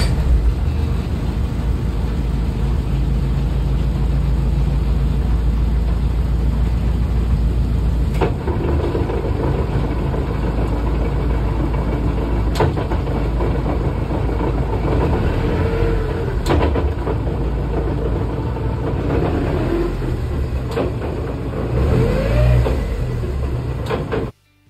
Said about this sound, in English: As you can hear from that, it sounds very loud, very rattly, and very much like a race car.